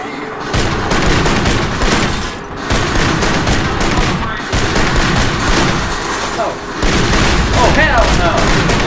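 Dense gunfire rattles throughout a shootout in the Kane and Lynch video game, a loud near-continuous barrage of automatic bursts and booms with brief lulls, while voices talk and shout over the combat.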